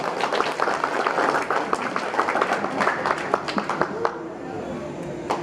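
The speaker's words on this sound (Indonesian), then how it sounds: "Beri tepuk tangan dong untuk Gisel." Family guests at an 80th birthday celebration clap for a girl after a poem reading, a lively sustained round of applause with some chatter mixed in, tapering off toward the end.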